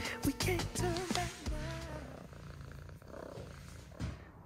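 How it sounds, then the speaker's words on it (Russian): A cat purring softly and close, its steady low rumble carrying on for several seconds, with a few brief musical sounds at the start in a calm home setting. "Ой, как мы мурчим!"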